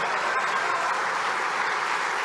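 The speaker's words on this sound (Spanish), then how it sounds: "me merece un aplauso" An audience applauds at a public talk by a speaker in Mexico, a brief steady patter of clapping heard from a distance with no voices over it.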